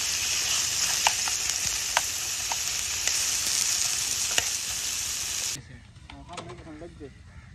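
Onions fry in a pan in a village kitchen, giving a steady, close sizzle and hiss with occasional stirring clicks before the sizzle drops much quieter near the end, with some talk.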